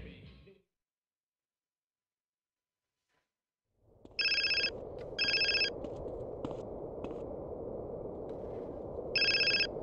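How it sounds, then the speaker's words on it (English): A phone rings in GTA San Andreas Remastered, giving three bright electronic bursts over a background hum and engine rumble after a stretch of near silence. "We got a phone call now."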